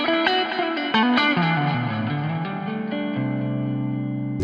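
Electric guitar through a Two Notes Genome preset with drive engaged, a few distorted picked notes and runs with chorus-like shimmer settling into a sustained ringing chord, played alone.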